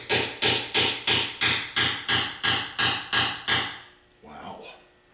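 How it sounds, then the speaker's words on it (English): Nine evenly spaced, loud metallic hammer blows land on a dead refrigeration compressor casing during a teardown, each ringing briefly before the next, followed by a softer scrape. "you're allowed to hit it with a hammer anytime"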